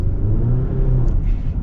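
A 2024 GMC Canyon pickup with a 2.7-liter engine pulls hard under acceleration, a steady deep engine drone heard from inside the cabin, with no talking.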